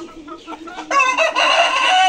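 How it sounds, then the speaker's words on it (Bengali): Hill breed chickens and roosters cluck softly at first. Then a rooster crows close and loud for the last second or so. "এটি মোরগগুলা, পাহাড়ি মোরগগুলা, সরি মুরগিগুলা"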